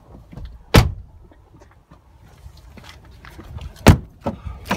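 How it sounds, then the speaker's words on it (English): Driver's door of a Land Rover Discovery 3 HSE, with a sharp close latch clunk near the start, quieter handling rustles, then a second loud thud a few seconds later. "Driver's side here, opening up the door"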